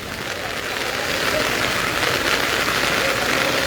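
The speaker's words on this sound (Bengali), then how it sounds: "সকাল থেকে ভারী বৃষ্টি ভারী মানে অতিরিক্ত ভারী বৃষ্টির কারণে দীঘার রাস্তাঘাটের অবস্থা" Heavy rain pouring on the streets of Digha, a steady, loud hiss of water hitting surfaces that fills the whole moment without a break.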